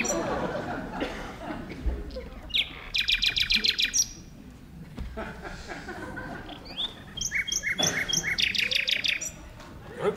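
A small bird chirps in quick bright bursts of rapid repeated notes, two clear volleys standing out over a murky background with a faint voice-like murmur underneath.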